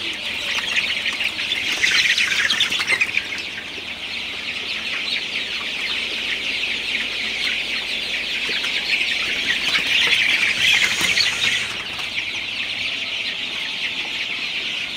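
Month-old Sonali super hybrid chickens crowded in a poultry house, their clucks, chirps and occasional squawks merging into a loud, unbroken flock chatter that swells in a couple of places, with no one talking.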